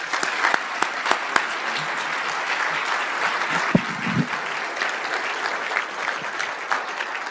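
An audience at a Winter Leadership Summit applauds to welcome Rapid City's Veteran of the Month, Jared Narlock, to the podium: sustained, even clapping from a medium-sized indoor crowd, steady for several seconds with a few sharper nearby claps.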